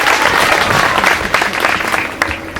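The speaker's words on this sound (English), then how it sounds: "Now you can give yourselves a round of applause." Graduates at a 2011 high school graduation ceremony applaud themselves, a dense, steady wash of clapping from a large crowd that holds loud and continuous throughout, with no talking.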